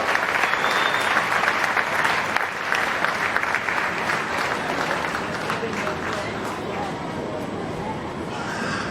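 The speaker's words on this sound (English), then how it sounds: "Give those people a very nice round of applause" Audience at a county fair swine show applauding, a full sustained round of clapping that holds steady for several seconds and then thins slightly toward the end, with crowd murmur and some talk underneath.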